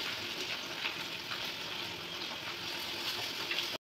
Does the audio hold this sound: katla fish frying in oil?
yes